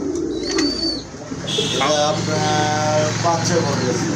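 Soft pigeon coos repeat under a voice talking close by, with a steady hum of background noise throughout.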